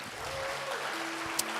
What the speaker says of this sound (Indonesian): Tepuk tangannya boleh lebih dahsyat.